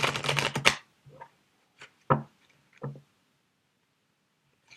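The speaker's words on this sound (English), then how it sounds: "I'll give these cards a shuffle." A quick riffle of cards flutters in a rapid burst, followed by a few separate soft taps and slaps of the deck.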